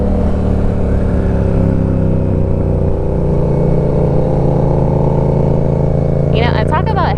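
A loud BMW GS motorcycle engine drones steadily throughout, its low exhaust rumble constant with no pauses, while climbing Pikes Peak.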